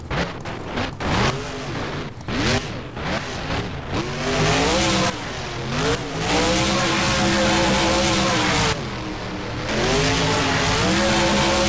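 A BeamNG monster truck revs hard through a backflip off a school bus ramp in the game, its engine roaring loud and continuous with rising and falling pitch, plus brief tire squeals and skids near the start.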